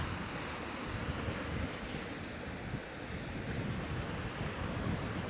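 Surf washes steadily into a small coastal cove at Orchard Bay, blended with wind buffeting against the microphone. Soft, continuous broadband rush with no talk.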